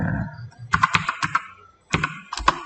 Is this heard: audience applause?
no